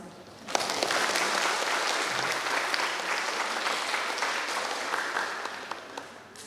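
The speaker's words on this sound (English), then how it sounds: "Ladies and gentlemen, please give a big round of applause." An auditorium audience applauds at a signing ceremony after a guest lecture. The clapping is dense and sustained, starting abruptly and holding steady for several seconds.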